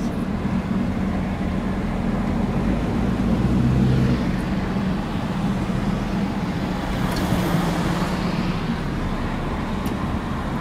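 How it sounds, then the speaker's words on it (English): Dense city traffic backs up on a road in Port of Spain, Trinidad, producing a steady, loud rumble of engines and tyres with no break and no talking. "here's where the traffic starts to back up"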